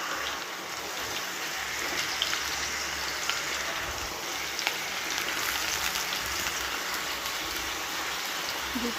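Steady rain falls outdoors on a cold day, a constant close hiss of drops on surfaces that holds even and unbroken with no voices.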